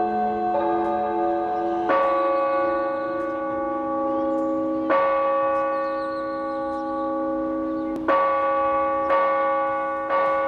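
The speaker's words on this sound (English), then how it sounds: "That's our dinner bells." Church bells in Puebla, Mexico ring out loud and sustained, with several strong strikes a few seconds apart and each one followed by a long resonant hum. A brief murmured voice is heard once.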